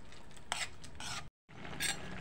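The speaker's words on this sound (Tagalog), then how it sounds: "halo-haloin po natin." A utensil stirs boiling miso soup with egg in a pot, with a few short scraping strokes against the metal over a low bubbling simmer and a brief gap midway.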